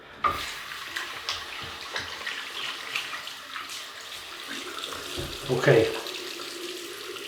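Running tap water splashes steadily into a sink to wet a shaving brush, a continuous close hiss with small splashy surges. One short spoken word is heard near the start.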